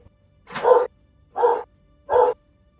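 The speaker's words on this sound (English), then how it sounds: "The dog is going insane." A dog barks repeatedly, four loud, close barks at a steady pace with quiet gaps between them and no talking.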